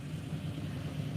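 A car engine rumbles low and steady, close by, a continuous idling drone with no speech over it.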